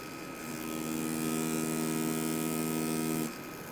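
A tattoo machine lining with a dry needle, a steady electric buzzing hum with a strong harmonic drone, starting after a brief pause and stopping abruptly near the end, close and continuous.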